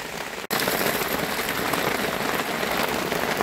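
Heavy rain drums steadily on a Decathlon tarp awning rigged to a converted Dacia Dokker mini-van, a dense, loud, continuous wash of close impacts with a brief dropout near the start.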